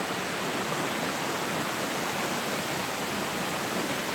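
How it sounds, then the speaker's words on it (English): The Rivlin river flows through woodland as a steady, dense rushing wash of water that holds at an even loudness throughout, with no voices. "beautiful river."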